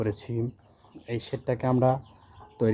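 Tiger and broiler chickens, including month-old chicks, cluck and call in short bursts nearby in a shed, several birds overlapping in a busy, uneven chatter.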